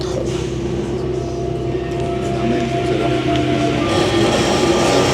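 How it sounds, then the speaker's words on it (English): A Paris metro Line 4 train rumbles steadily along the track, a constant low drone with faint rattling, growing slightly louder toward the end. "Also noticed a slightly more modern train."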